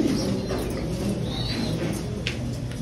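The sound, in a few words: pigeons cooing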